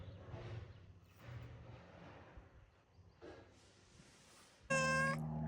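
A ranch cat named Risen gives one short, loud, close meow near the end, after a stretch of faint outdoor rustle and low background noise.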